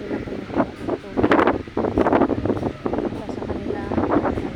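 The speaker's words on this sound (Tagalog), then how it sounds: "Mahangin na yan guys. Sobrang hangin na yan." Strong wind gusts over open rice fields, buffeting the microphone in rough, uneven roaring surges, while a person talks through much of it.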